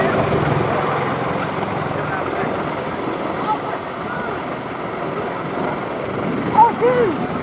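Military helicopters and aircraft in a MAGTF demonstration at the 2012 MCAS Cherry Point airshow give a continuous loud rotor and engine drone, overlaid by a public-address announcer and brief crowd voices.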